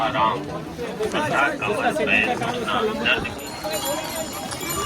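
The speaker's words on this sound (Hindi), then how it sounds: "ये देखो कितने घोड़े हैं।" Hooves clip-clop steadily on hard ground as several horses walk past on the route to Kedarnath, mixed with voices and chatter from people nearby.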